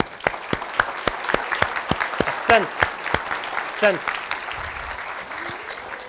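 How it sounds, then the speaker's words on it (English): Scattered, crisp claps from an audience at a religious lecture ring out one after another over about six seconds, with a voice speaking through the applause. "Let's give him a round of applause for both."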